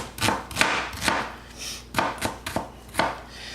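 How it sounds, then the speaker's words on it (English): Onions being chopped with a knife for Italian sausage black bean chili, heard as a series of sharp, close knife strikes on a board in an uneven rhythm, with no voices over them. "I'm almost done chopping the onions up"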